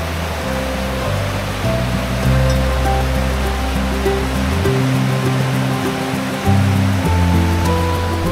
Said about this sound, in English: The only sounds out here were rushing water, the wind, and the occasional critter scavenging for food.